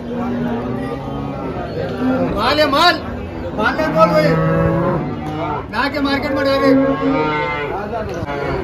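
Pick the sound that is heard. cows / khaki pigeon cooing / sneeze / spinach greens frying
cows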